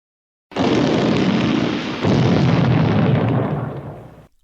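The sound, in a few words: explosion sound effect for oil well gusher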